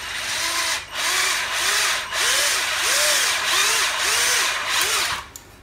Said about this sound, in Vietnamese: Bây giờ mình khoan thử như này.